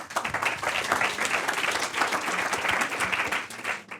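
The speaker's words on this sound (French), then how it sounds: "Allez, encore, on applaudit." Audience applause at a sextech pitch session, a steady wash of many hands clapping at moderate volume for four seconds, fading slightly at the end.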